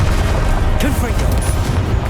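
A Confringo blasting spell explodes in Hogwarts Legacy, a loud booming burst amid dense, continuous game-combat noise, with crackling debris spread across the clip.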